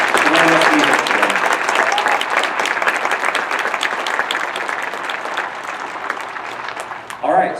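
An audience at a band concert claps steadily for several seconds, dense and fairly loud, tapering off toward the end as a voice begins.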